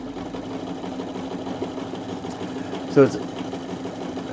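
A vintage American Home zig zag sewing machine runs in a steady, smooth mechanical hum close by, with a brief louder knock near the end and a voice speaking briefly over it.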